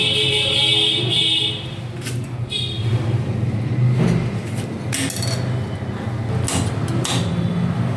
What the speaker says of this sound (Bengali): ছাড়িয়ে ভালো করে পিস পিস করে ছোট ছোট করে কেটে নেব।